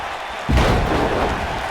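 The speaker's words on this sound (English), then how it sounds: "What a toss there, sending Dustin Rhodes flying" Wrestler Dustin Rhodes tossed by Chris Jericho and slamming onto the ring mat, a single heavy thud that rises out of steady arena crowd noise and carries into a sustained roar.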